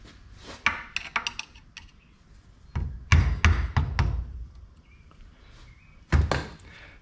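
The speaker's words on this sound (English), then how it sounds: "What do you say we knock this seal out and see if there's actually any grease in here?" Metal-on-metal knocking at a John Deere 425 54-inch mower deck spindle to drive out its seal, heard as close, sharp hammer blows in irregular clusters separated by pauses.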